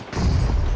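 A single heavy shotgun blast from a video game booms out abruptly and rings briefly, loud and close.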